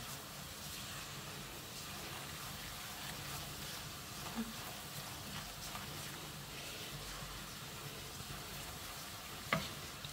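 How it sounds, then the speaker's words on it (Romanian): Flour fries in a pan for a bean and ham hock stew, a steady close sizzle with scraping stirring strokes throughout and one sharp clink near the end. "Prăjim și făina, că dacă nu prăjim făina, are gustul ăla de"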